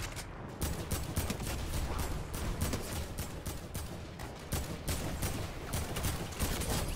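Rapid video-game gunfire in a gun game mode, dense and continuous for several seconds with fast repeated shots and no talking.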